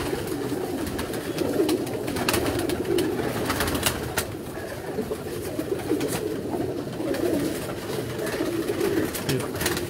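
Breeding pigeons coo in a constant, overlapping murmur, close and fairly even in level, with soft rustling beneath.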